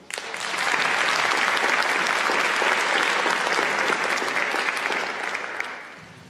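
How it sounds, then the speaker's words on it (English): A large audience applauds students at a Gold Key awards ceremony, loud dense clapping rising quickly, holding steady for about five seconds, then tapering off. "Let's give one more round of applause for all of our GoKey students."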